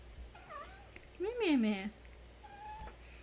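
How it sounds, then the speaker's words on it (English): A pet cat meows in a varied, chatty series of calls near the microphone, with one louder drawn-out meow in the middle and softer ones around it, while a person speaks briefly. "my cat is suddenly really chatty."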